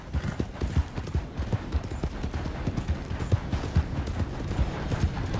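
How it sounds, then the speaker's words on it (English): A horse's hooves clip-clop in Red Dead Redemption 2, a steady close walking rhythm of hard knocks repeating throughout. "Who's a good horse?"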